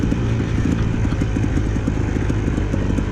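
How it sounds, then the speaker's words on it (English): Dirt bike engine running at low RPM on a hill climb trail at Hobble Creek, loud and close, with a rapid uneven putter and crackling from the carburetor, steady throughout. "The carburetor's actually making crackly sounds at low RPMs"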